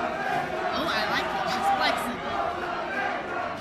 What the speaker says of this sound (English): Sounds like the crowd is with Rosa Negra. They are behind the champ.